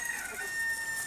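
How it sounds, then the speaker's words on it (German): A small rooster crowing and clucking, brief high-pitched calls over a quiet background, moderately close with no talk. "Ja, das ist der kleinste Hahn."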